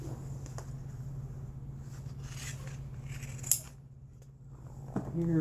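Scissors cutting athletic tape during arch taping, a few sharp snips and a brief crisp cut standing out over a steady low room hum.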